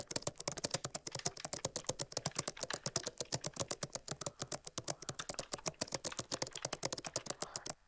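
Someone types a folder name on a computer keyboard, producing a fast, even run of crisp key clicks that continues close and steady for several seconds with no talking.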